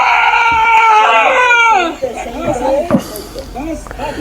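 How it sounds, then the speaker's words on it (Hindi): Anguished screaming and wailing from several people in the aftermath of a drone strike, high-pitched and sustained for about two seconds before giving way to agitated voices talking. "जो ये चीखें हैं ये बड़ी दिलखराश हैं।"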